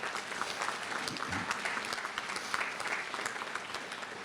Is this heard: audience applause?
yes